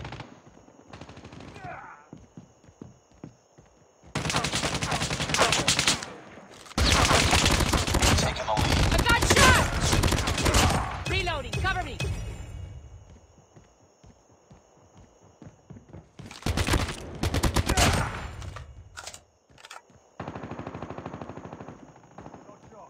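Rapid automatic gunfire in Call of Duty: Mobile night-mode multiplayer, loud sustained bursts broken by quieter gaps, with game sounds around them.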